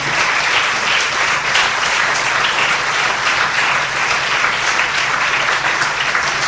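Steady, dense applause from a large church congregation during a morning service, even and sustained throughout with no pauses.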